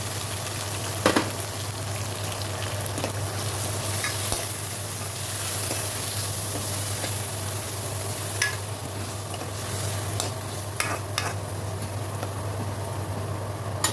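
Chopped garlic fries in a pan with a steady, even sizzle, broken by occasional sharp clicks and scrapes of stirring, over a low constant hum.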